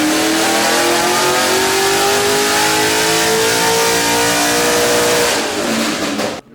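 A tuned Nissan Skyline R32 making about 350 horsepower revs hard and loud, its engine note climbing steadily and smoothly before dropping off abruptly at the end, with no voices over it.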